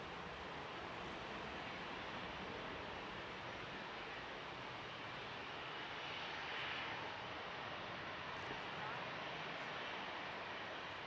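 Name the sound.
airliner jet engines at Manchester Airport, likely Ryanair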